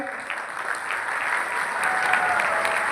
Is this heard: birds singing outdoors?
no